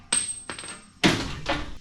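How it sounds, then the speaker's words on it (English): A hammer strikes a stuck bolt on a heavy truck frame, four sharp metallic knocks spaced unevenly, close and loud with a brief ringing after each hit and no speech. "I bet I can just knock it out with a hammer"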